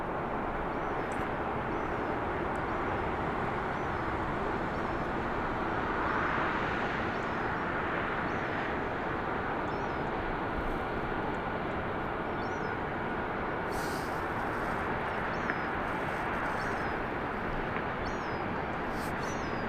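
Airplanes depart Birmingham Airport, a steady, broad jet roar that holds for the whole stretch, heard from a distance with no breaks.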